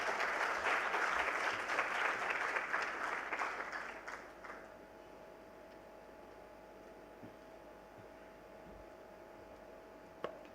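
Audience applause rings out after Dr. Ghosh's speech at a Youth Sabha 2047 gathering, a dense, steady round of clapping that thins out around the midpoint and leaves a quiet room hum.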